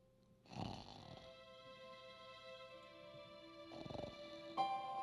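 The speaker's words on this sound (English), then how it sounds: "The door is closed, but I can hear the professor snoring." Snoring from a professor asleep behind a closed door in the Famous Five Treasure Island video game: two broad snore swells, early and near the end, rising over steady game music.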